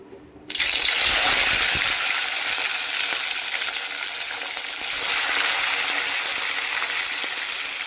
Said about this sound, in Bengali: তেলটা আমার গরম হয়ে গেছে। এবার আমি মাছগুলো ছেড়ে দেবো